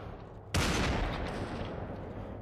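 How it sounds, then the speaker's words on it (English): Gunfire in the VR shooter Population: One erupts suddenly after a brief lull into a loud, sustained burst of rapid shots that continue dense and close before easing slightly, with no voices over it. "how many times do I gotta shoot that person?"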